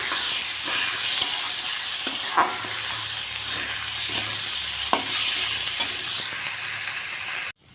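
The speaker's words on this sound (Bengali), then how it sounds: "চাল ডাল একসঙ্গে দিয়ে এর মধ্যে একটু নুন হলুদ দিয়ে দেবো, দিয়ে ভালো করে ভেজে নেব।" Gobindobhog rice and dal frying together with salt and turmeric, a steady close sizzle and hiss with a few sharp scrapes of a spatula stirring through the grains, no voices.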